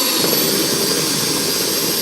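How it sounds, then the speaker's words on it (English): An apple mulching machine chops apples for cider with a loud, continuous whirring roar and grinding rush that holds steady throughout, with no voices over it. "What it's doing now is it's chopping all of those apples up"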